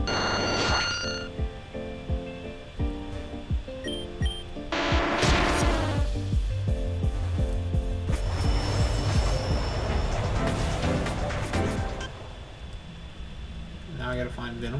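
Train running in the Pokemon Rejuvenation video game, a busy rumbling passage with rhythmic mechanical clatter and squealing tones layered over game music and effects, loud throughout.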